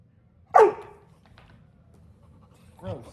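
A dog gives one sharp bark followed by a shorter, softer yip or bark a few seconds later, close by in an otherwise quiet indoor room.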